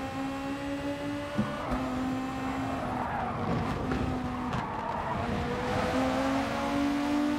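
Race cars, including Volkswagen Beetles, in Gran Turismo Sport: steady engine drone with rising and falling pitch as several cars run close together, and tyres squealing through corners.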